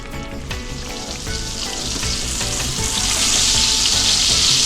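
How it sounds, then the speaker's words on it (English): A jerk-seasoned grouper fillet laid into melted butter in a pan, a loud close sizzle that builds steadily into a bright, continuous hiss, with no voices. "we're just gonna set it down in the butter nice and easy"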